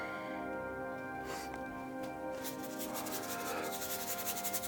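A painting knife scrapes paint onto canvas to lay in a sky for a dark evening landscape, a faint, soft rasping scrape over a quiet background hum.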